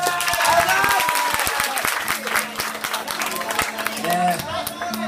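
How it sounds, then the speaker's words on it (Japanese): An audience at a live music show in a small venue applauds, with sharp individual claps, scattered cheers and crowd chatter layered over one another at close range. "拍手。"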